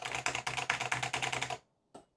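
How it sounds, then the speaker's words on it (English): Rapid typing on a computer keyboard, a close, even run of crisp key clicks for about a second and a half, then a pause and one last keystroke. "Typing sounds, ASMR for..."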